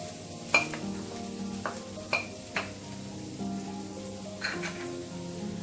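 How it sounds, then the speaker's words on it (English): Finely chopped ginger and garlic fry in hot oil in a frying pan over a medium flame, a steady sizzle with several scattered clinks and scrapes of stirring. "Now in a frying pan, we'll heat some oil on medium flame. To this, we'll add finely chopped ginger and garlic"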